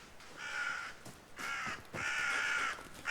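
Crows in the video game REKA caw harshly in three close, loud bursts, each a raspy call of about half a second to a second, separated by short gaps, with no speech.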